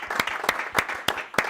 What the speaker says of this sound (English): they deserve also a huge thank you with some claps